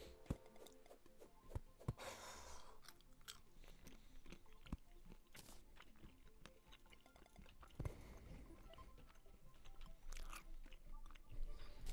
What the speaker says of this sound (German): Ja, schmatz noch lauter rein!